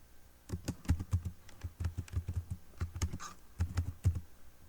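Steady, uneven clicking of keys on a computer keyboard during HTML coding, close and moderately quiet, with bursts of rapid keystrokes and short pauses and no voice.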